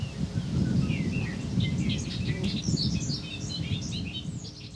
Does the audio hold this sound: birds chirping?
yes